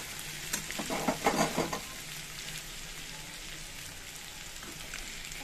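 Potatoes fry in a pan with a steady hiss like light rain, and a louder burst of clatter and crackle comes early as they are flipped before the even sizzle carries on alone.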